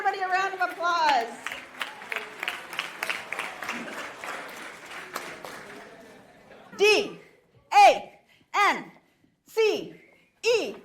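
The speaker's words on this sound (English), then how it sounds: "Let's give everybody a round of applause." An audience at a keynote talk on creativity claps in a long, loud burst mixed with cheers and chatter, which fades out before several separate shouts ring out over the quiet room.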